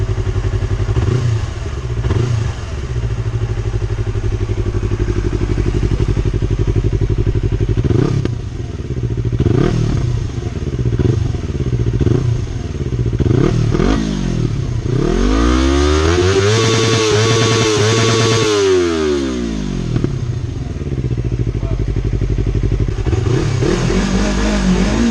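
A Yamaha R25 motorcycle fitted with an Akrapovic exhaust revs loudly up close, its engine note rising and falling through repeated throttle blips and one long climbing rev, with rough idle between pulls.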